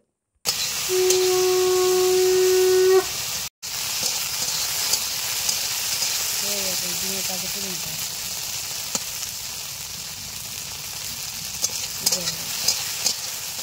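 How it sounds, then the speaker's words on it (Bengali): Sliced okra frying in a pan with salt and turmeric, a steady hiss of sizzling oil running throughout, punctuated by occasional light utensil taps, with a brief tone near the start and no talking. "এই দুটি দিয়েই ভালোভাবে ঢেঁড়সগুলোকে ভেজে নিতে হবে।"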